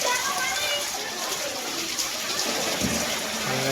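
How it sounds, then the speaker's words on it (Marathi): Children swim and splash in floodwater filling a village house, a steady wash of water and splatter running throughout at close range, with voices present. "बघा पोरं कशी पोहतात पाण्यात"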